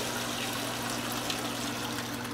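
Water draining from the bottom chamber of a freeness tester into a graduated cylinder, a steady close trickle and pour with a constant low hum beneath it.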